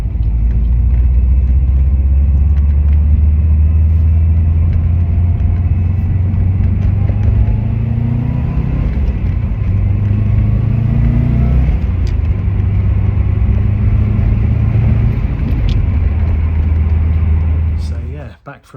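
A Subaru Impreza WRX STI with a knock sensor fault driving on a road test, heard from inside as a loud, steady low engine and road rumble with rising and falling drone as the car accelerates and shifts.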